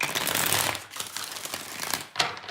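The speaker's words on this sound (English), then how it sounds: "2 more shuffles, 2 more." Tarot cards being shuffled during a mini reading, a dense riffling rustle that runs steadily for most of the stretch, dips briefly, then returns with a few sharper snaps near the end, close and fairly quiet with no talking.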